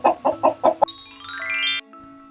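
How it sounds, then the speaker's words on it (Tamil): A hen gives five quick, close clucks in a tight burst, followed by a bright rising chime flourish. "கோழி,"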